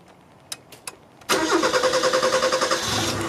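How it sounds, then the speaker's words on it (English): A Mazda 323 engine started with a teaspoon in place of a key cranks briefly, catches and settles into a loud, steady, throbbing idle, preceded by a few faint clicks and close to the listener. "I'm going to try and attempt to start this car with only a teaspoon"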